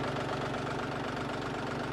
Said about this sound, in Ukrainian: коли працюючий трактор з працюючим двигуном